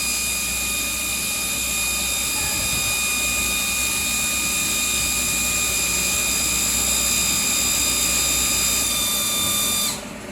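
A fuel dispenser pumps fuel into a tank with a steady, loud mechanical whine and drone that holds evenly for about ten seconds before cutting off at the end.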